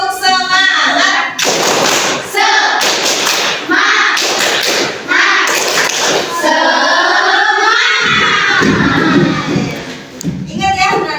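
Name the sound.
classroom 'tepuk semangat' spirit clapping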